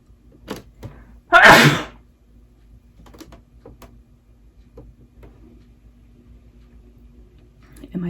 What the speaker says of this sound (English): I can't believe I'm about to sneeze.